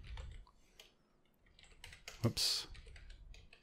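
Typing on a computer keyboard while writing Game Maker Studio 2 menu code, with scattered key clicks through the clip and a louder burst near the middle, under a brief spoken exclamation.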